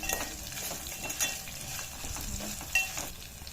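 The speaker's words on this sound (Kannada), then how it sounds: "ಇದಿಷ್ಟೆಲ್ಲ ಚೆನ್ನಾಗಿ ಫ್ರೈ ಮಾಡ್ಕೋಬೇಕು." Curry leaves and chilies fry in a pan, a moderate steady hiss of oil broken by soft stirring scrapes and a couple of light utensil taps, close by and without speech.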